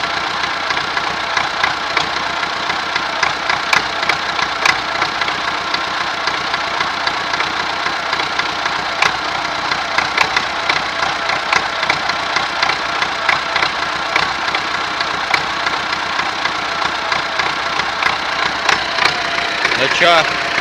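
Old MTZ tractor engine idling unevenly during restoration, a continuous close rumbling chug with irregular knocks and slight surges throughout, someone speaking faintly over it.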